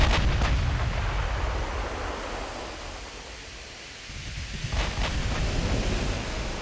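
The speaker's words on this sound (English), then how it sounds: "They have 16-inch guns that they hit our battlecruiser with." Heavy 16-inch naval gunfire in the warship battle game Ultimate Admiral Dreadnoughts, a sustained broadband rumble with distant booms at the start, easing off in the middle, then a fresh burst of firing toward the end.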